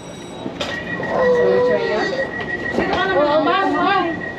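A moving train rumbles along with wheels screeching and squealing in wavering, high whines that rise and fall, loud and close, while people talk over the noise.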